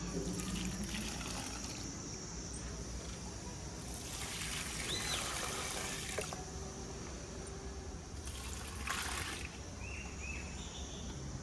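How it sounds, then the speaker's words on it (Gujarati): Water poured onto flowering plants on a summer day, a steady close trickle and splash that runs continuously, with faint bird chirps in the background and no talking. "ફૂલ છોડને પણ થોડું થોડું આપણે પાણી નાખી દઈએ"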